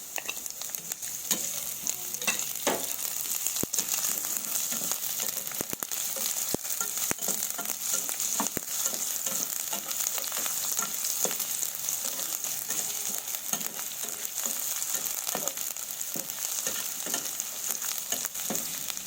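Red onion and garlic fry steadily in a pan, a continuous bright sizzle with scattered pops and crackles running alone throughout.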